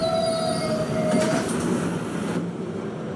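An 11 express train in the Roblox PTA game rolls along loudly and close, with continuous rumbling wheel noise, a high squeal fading midway and faint clickety-clack.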